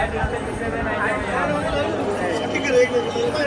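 Dense crowd babble fills a busy temple courtyard at Mahakaleshwar in Ujjain on a Shravan Monday, a steady wash of many overlapping voices with occasional nearer calls, continuous and moderately loud throughout.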